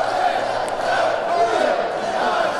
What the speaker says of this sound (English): the crowd counting